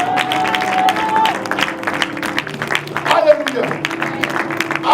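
Church congregation applauding and cheering for Jesus, a dense burst of clapping with scattered voices beneath a preacher's ringing, sustained speech and background music.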